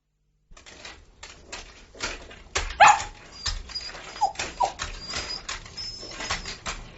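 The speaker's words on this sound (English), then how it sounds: "The dog's gone mad." Dog in a radio drama, barking and whimpering in repeated short yelps and whines with a sharp louder bark near the middle, close and agitated, with no talking.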